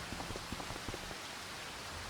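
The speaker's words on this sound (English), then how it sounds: "And it's raining." Rain falling in a farming video game, a steady soft hiss of drops with faint patter, fairly quiet and uniform throughout.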